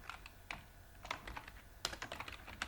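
Typing on a computer keyboard while entering text in a PowerPoint slide, quick irregular bursts of close, crisp key clicks with short pauses between them, no speech.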